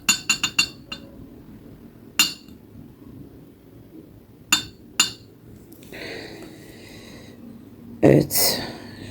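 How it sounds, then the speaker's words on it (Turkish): Porcelain Turkish coffee cup being opened and handled, giving a series of sharp clinks and taps, several quick ones at first and then scattered, with a louder clatter near the end and a voice talking softly in between. "Ve fincanımı açıyorum."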